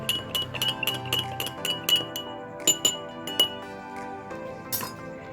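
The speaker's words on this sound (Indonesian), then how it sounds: "dan juga kita homogenkan gelas B" Glass B is stirred to mix it during a pancreatic lipase enzyme lab experiment, giving a run of sharp glassy clinks. The strikes are close and uneven, some quicker and some spaced out, with faint ringing between them.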